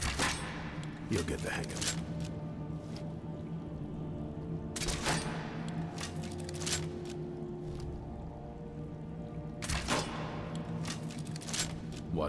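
Crossbow bolts loosed at wooden crates in Skyrim, sharp impacts landing at uneven intervals among rumbling game ambience, with a voice speaking briefly over the shots.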